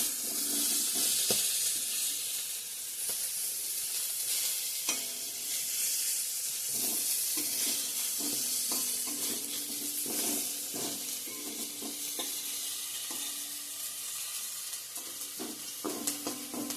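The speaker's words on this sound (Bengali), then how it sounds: "ভেন্ডিটা ভাজা হয়ে গেলে তারপর পটলটা ভাজা করব" Pointed gourd frying in a home kitchen pan, a constant hissing sizzle broken by repeated spatula stirs and light knocks, no talking.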